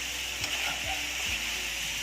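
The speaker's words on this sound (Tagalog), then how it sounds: "Gisa muna natin itong vegetables." Pinakbet vegetables sautéing in a pan, a steady close sizzle with a few soft stirring scrapes over two seconds.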